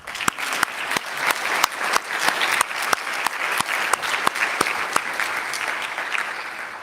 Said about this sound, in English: Once again, a round of applause to our lecturer.